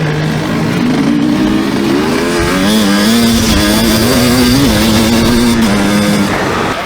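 An enduro motorcycle races around a course, its engine held at a steady, loud, close whine with rising and falling pitch as it accelerates.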